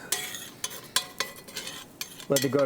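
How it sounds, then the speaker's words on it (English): A spoon stirs garlic into onions softening in a pan, producing several scraping and clinking strokes over a light sizzle, with a brief tonal sound near the end. "Now we're gonna add some garlic. Stir it all together."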